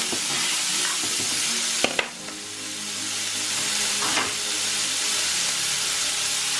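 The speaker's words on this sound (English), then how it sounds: "I throw in all the seasoning, just saute it and get all those yummy flavor out" Seasoning sizzles and hisses in a hot pan for quinoa fried rice, with a constant frying crackle and a few sharp clicks and scrapes of stirring, close and steady without speech.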